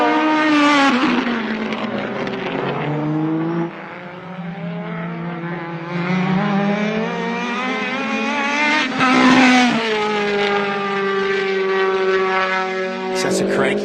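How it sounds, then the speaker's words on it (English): A supercharged K-series race car screams by at full speed at a motorsport event, its engine note rising and falling through gear changes, loud and continuous, with commentary voices partly over it. "That's a cranky sounding car for years. It's been one of the loudest ones we've had."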